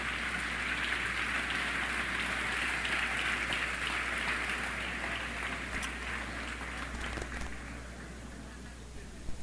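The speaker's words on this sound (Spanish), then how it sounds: "Dale un aplauso al Señor este día" Audience applause rising into a dense, steady wash of clapping that fades slightly toward the end, sounding like rain.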